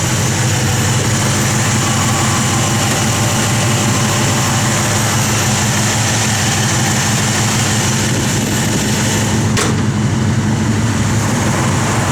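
A 1967 Chevrolet Chevelle SS idles nearby, a loud steady low rumble with an even pulsing throb that holds throughout without talk.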